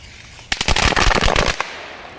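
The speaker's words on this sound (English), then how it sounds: "lighting firecrackers in the water" A strip of firecrackers bursts over water in a rapid crackling string of sharp pops lasting about a second, close and loud, then quiet.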